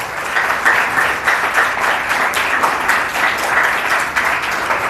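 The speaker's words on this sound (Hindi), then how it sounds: "यीशु के लिए एक जोरदार ताली बजाएं।" A congregation claps loudly for Jesus during a Hindi church sermon, a dense and steady wave of applause that fills the whole stretch with no speech over it.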